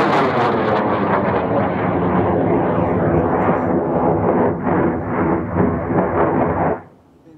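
The Martlet 2 rocket ignites on the launch range with a loud, harsh crackling roar that begins at once and stays sustained for nearly seven seconds before cutting off abruptly.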